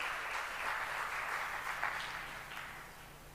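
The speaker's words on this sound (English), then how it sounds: "Round of applause for Pastor Gibson" Guests at a coaching group's annual graduation ceremony give a round of applause for a pastor, a moderately quiet, even patter of many hands that slowly tapers off toward the end.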